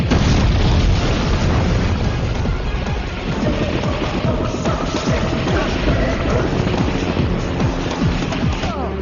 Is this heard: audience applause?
no